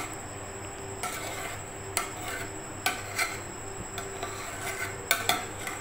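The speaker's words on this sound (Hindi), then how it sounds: "हल्के हल्के हाथों से हम इसको ज़रा मिक्स कर लेते हैं।" Cooked moti pulao gets mixed gently in a pot, with a spoon scraping and clinking against metal at irregular intervals, about seven distinct taps over soft rustling, close and clear with no talk.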